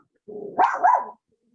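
A small dog gives a short, close bark sequence, a low growly lead-in rising into two sharp yips, alone with no talk.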